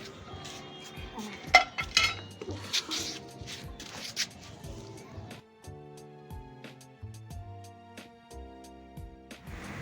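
A metal frying pan clanks and clinks as it is handled on a rooftop, with a few sharp knocks early on and voices talking throughout.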